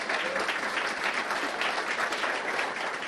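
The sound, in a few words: audience applause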